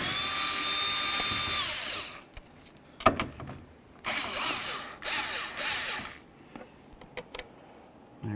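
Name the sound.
power drill removing side mirror fasteners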